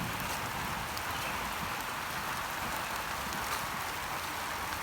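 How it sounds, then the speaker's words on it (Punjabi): Rain falls steadily outdoors on a cloudy day, a constant even hiss of drops with no voices. "ਆ ਦੇਖੋ ਬਾਰਿਸ਼ ਲੱਥੀ ਦੀ ਆ"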